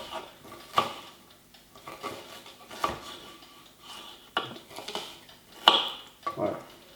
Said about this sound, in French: Et là, je vais le couper hyper finement.